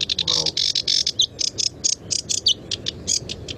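Sedge warbler song: a rapid run of short, chunky, repeated chattering phrases with curly rising notes, close and fairly loud, continuing steadily without pauses or voices.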